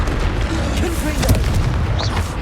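A Confringo fire blast spell in Hogwarts Legacy detonates with a deep, rumbling boom, a sustained explosive roar with a stronger burst midway, loud and close, with a voice briefly audible over it.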